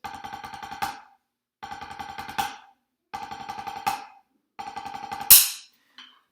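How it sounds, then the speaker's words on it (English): A 9-stroke roll drum rudiment played with open doubles on a snare for a rudimental solo: four quick, crisp rolls, each ending on a sharp accented release note, with short pauses between. The last accent is loudest, followed by a faint tap. "9-stroke roll. That should be rudiment number 10."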